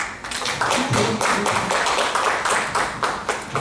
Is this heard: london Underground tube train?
no